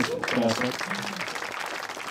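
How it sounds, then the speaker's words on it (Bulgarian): At a rooftop party, an audience claps in a continuous, moderately loud burst, with a voice talking over the first half. "аплодисменти за Златина"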